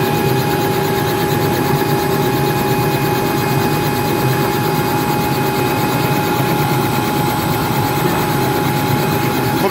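Helicopter engine and rotor running close and loud, a constant droning roar with steady whine tones and rapid rotor chop holding unchanged throughout, with no talk.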